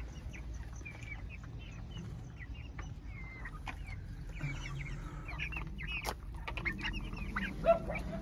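Chickens cluck and chirp softly in a quiet enclosure, scattered short calls overlapping, with one sharper peep near the end.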